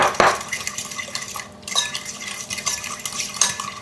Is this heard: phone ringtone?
no